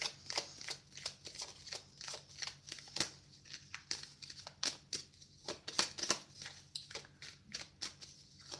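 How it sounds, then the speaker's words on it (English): A deck of tarot cards shuffled by hand, a soft rapid series of riffling flicks and taps repeating in uneven bursts, close and quiet with no talk. "Let's give the cards a bit of a shuffle."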